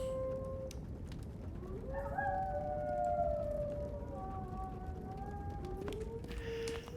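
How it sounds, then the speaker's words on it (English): Wolves in the video game Rising World let out long rising and falling howls, several voices overlapping at moderate distance over a steady low background rumble. "Oh, here go the wolves again."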